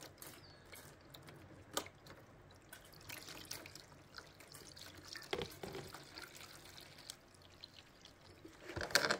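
Water is dumped into a container of dry, thirsty plants under an indoor grow light, making a continuous trickling, splashing pour with scattered drips, close by and with no talk.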